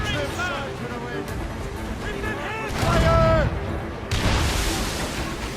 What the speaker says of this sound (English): They can fire many volleys.